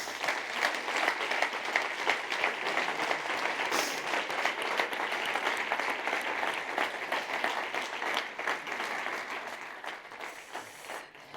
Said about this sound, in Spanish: os pido por favor un fortísimo aplauso para ellos.